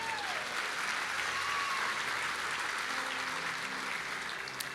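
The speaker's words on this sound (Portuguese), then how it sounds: "Dá um aplauso ao Senhor." A church congregation applauds in a steady, dense wash of clapping at a moderate distance through the whole stretch, with faint voices underneath.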